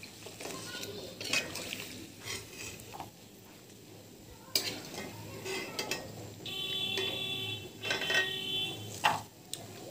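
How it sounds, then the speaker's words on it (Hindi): Papad fries in hot oil with a steady sizzle and bubbling, mixed with occasional clinks and scrapes of a utensil against the pan, while someone talks over the cooking. "चलिए देखिए ये हमारा पापड़ बड़ी अच्छे से तल रहा है।"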